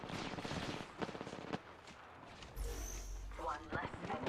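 Gunfire in a video game shooter, rapid bursts of shots up close with a loud boom partway through, under a voice speaking.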